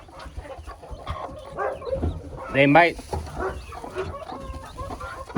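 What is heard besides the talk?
hen clucking in backyard coop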